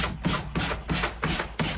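A coarse sanding block rubs rice paper off the front of a print in about six steady back-and-forth scraping strokes, close and fairly loud with no voices.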